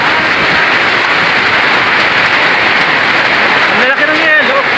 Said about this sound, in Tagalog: may kasamang yelo yung ulan,